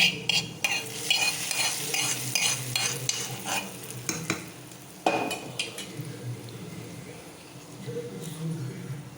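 Fried cashews being stirred into kesari in a pan, with rhythmic spoon clinks and scrapes over a soft sizzle, busy at first and then quieter, with a brief voice in the background.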